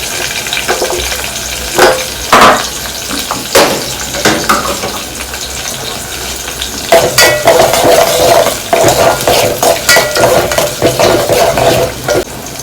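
Chopped onion hits a hot pan and fries with a steady sizzle, while a utensil scrapes and clinks against the pan in irregular stirring strokes, loud and close; the sizzle intensifies midway.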